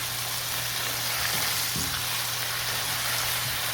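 Tofu skin and tomato stir-fried in a pan give a loud, dense sizzle throughout, with a couple of brief spatula stirs and scrapes up close and no voices.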